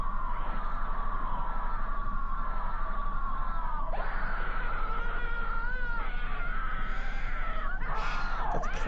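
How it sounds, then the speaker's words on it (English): A classic stock scream sound effect, a long loud wailing shriek that wavers in pitch and breaks near the middle, cutting in again near the end over a constant low hum. "Classical stock scream sound"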